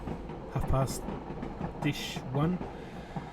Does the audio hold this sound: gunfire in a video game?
no